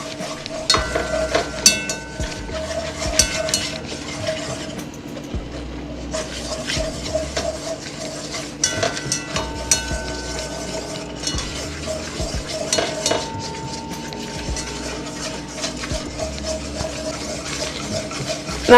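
A utensil scrapes and stirs all-purpose flour cooking in butter in a pan, with a soft sizzle and repeated clinks against the pan over a low steady hum.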